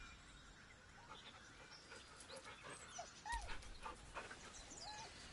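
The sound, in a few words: dog whimpering nervously in the video game Baldur's Gate 3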